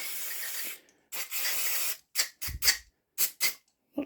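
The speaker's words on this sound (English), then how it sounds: "But just a general spray." An aerosol cleaner can hisses in two long sprays onto the MAF sensor of a Toyota Celica's 1ZZ-FE engine, then a quick series of short, sharp bursts, close and clear with brief silences between.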